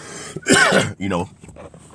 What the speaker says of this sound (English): I'm coughing, hacking, wheezing.